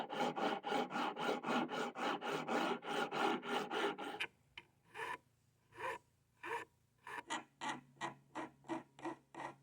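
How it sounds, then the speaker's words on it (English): Sandpaper or a scuff pad scuffs down a surface before painting with close, rhythmic rasping strokes, first a fast steady run and then slower, spaced strokes. "first, like I say, we got to scuff it down"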